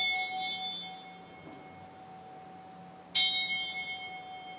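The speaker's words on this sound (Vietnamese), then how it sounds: "Ban trung cổ trỗi ba hồi chuông trống bát nhã để cung thỉnh hòa thượng hồi quy phương trượng" A Buddhist temple bell rings during a ceremony, its low steady tone humming throughout before a single bright strike, then a fresh shimmering ring that slowly fades.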